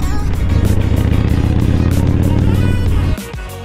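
A motorcycle riding along Showa-dori near Akihabara in Tokyo traffic, a loud constant engine drone with heavy wind rush, easing off near the end.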